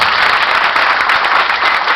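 Strong, dense applause from a wedding hall crowd as the bride's veil is lifted, a steady loud wash of many hands clapping with no pauses.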